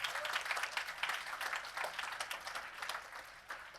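Audience applause at the Com' en Or Trophy 2025 awards ceremony, a steady wash of many hands clapping throughout, fairly distant and moderate in level, with no voices over it.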